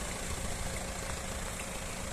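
A Volkswagen Touran 1.9 TDi diesel MPV idles with a steady low rumble and even mechanical hum, close and unchanging throughout.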